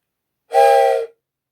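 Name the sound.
train whistle blowing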